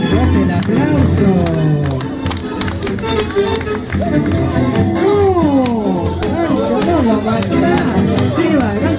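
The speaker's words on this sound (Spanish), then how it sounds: "¡Fuerte el aplauso!" Audience at a nighttime tango show in Buenos Aires claps steadily and loudly throughout, with sharp hand claps over a busy wash of crowd voices and music.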